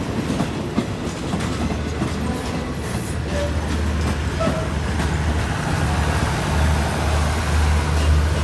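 A train hauled by a GEA 4525 diesel locomotive rolls past on a Thai railway siding, with a steady rumble and clickety-clack of wheels and low engine drone throughout, fairly close.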